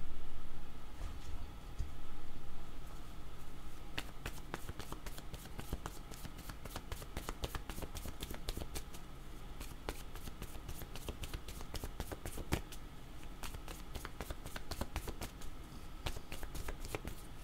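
Tarot cards are shuffled by hand in a quick, steady riffle of crisp flicks and soft slaps, close and fairly quiet, running on with no talking.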